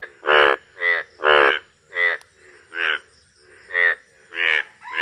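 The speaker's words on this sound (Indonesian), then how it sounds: "Wih, ini ternyata ada katak." A frog found among toy animals being washed gives a series of about eight loud, close croaks in a steady rhythm, each a short rasping pulse separated by brief pauses.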